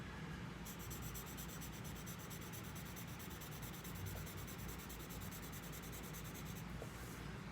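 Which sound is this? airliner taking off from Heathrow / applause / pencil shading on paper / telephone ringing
pencil shading on paper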